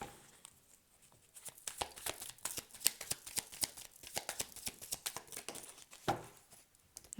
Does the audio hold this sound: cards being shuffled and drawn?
yes